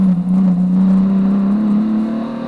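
Onboard a Hyundai Genesis touring car racing at Buttonwillow Raceway, the engine holds a loud, steady high-rev drone that climbs slightly in pitch, with no voices over it.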